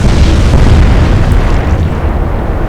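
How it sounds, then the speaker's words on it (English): A torpedo strikes a ship during a World War II naval battle in the Atlantic Fleet video game, heard as a loud, sustained explosive boom and rumble lasting nearly three seconds, with no talk over it. "Here comes a torpedo."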